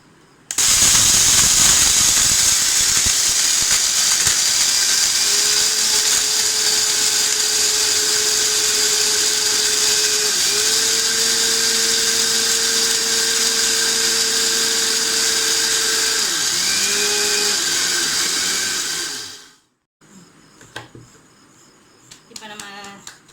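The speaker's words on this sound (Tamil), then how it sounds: "இதை அரைக்க போகிறோம்." A mixer grinder jar pulverises dried herbs into a powder for a cold and cough home remedy, its loud steady motor whine and rattling contents running for about nineteen seconds before cutting off abruptly into quiet.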